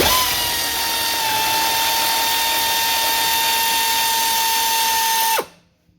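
A power tool, likely a cordless drill or impact driver, whines steadily at high pitch for about five seconds while working on a 1986 Toyota Starlet EP70, then winds down and stops abruptly, close and loud, with no talk.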